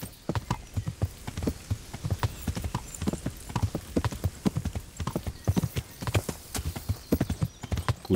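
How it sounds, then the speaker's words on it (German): Hooves clip-clop in a steady, close riding rhythm as a horse travels over hilly ground in Kingdom Come: Deliverance, loud and continuous with a faint voice in places. "Gut, dass unser Pferd so ausdauernd ist."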